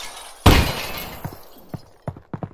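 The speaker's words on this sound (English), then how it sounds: "Glass breaks." Glass shatters in a single loud crash in Half-Life: Alyx, followed by a few scattered tinkling clinks of falling shards.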